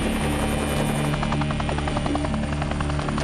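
US Navy Seahawk helicopter flying over a pirate boat at sea, a loud, steady, close rotor thump and engine whine that fills the whole stretch with no talk.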